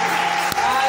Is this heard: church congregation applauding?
yes